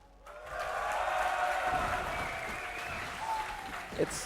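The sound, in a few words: esports crowd cheering at DreamHack League of Legends match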